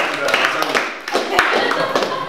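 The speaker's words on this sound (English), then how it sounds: "let's give a clap to Sabrina too" An audience at a fitness studio business meeting claps together, a close burst of mixed hand claps that dips briefly and then picks up again, with voices talking over it.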